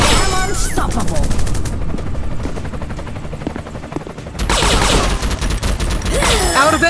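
Rapid automatic gunfire from an Android first-person counter-terrorism shooter game, loud dense bursts that ease into sparser shots midway, then surge again with heavy continuous firing.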